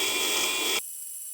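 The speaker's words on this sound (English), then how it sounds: "Now let's drill the second hole using the 1/4 inch brad point drill bit." A power drill with a 1/4 inch brad point bit bores a hole during a ditch light kit install on a Toyota 4Runner, a loud steady whirring buzz that cuts off abruptly partway through.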